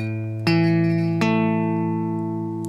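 Guitar power chord notes picked one at a time, each struck clearly and left ringing; one note sounds alone, then two more fresh attacks follow at a steady pace, sustaining and slowly fading, with no voices.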